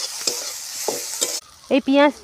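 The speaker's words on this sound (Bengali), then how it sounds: "পেঁয়াজ কুচিটা এর মধ্যে দিয়ে দিলাম, যে ভালো করে নেড়ে নেব।" Chopped onions fry in a pan for a puffed-rice curry, a continuous sizzle broken by three sharp spoon scrapes as they are stirred, then the frying stops and a short, faint sound follows.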